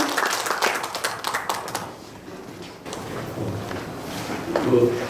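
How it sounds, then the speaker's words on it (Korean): Applause from an audience after a humanities forum lecture, fairly quiet and brief clapping at the start that dies away into room noise, with a voice faintly heard near the end. "다시 한번 응원의 박수 부탁드립니다."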